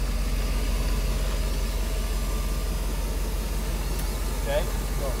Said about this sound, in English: he's going to let us hear what the exhaust sounds like with the Lorenzer